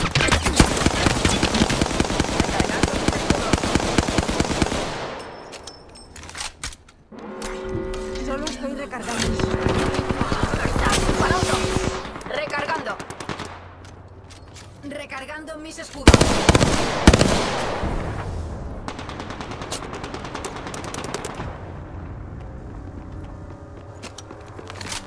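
Rapid bursts of shooter video game gunfire crackle in dense, loud volleys, pausing and returning in waves alongside game effects, with talk in the background.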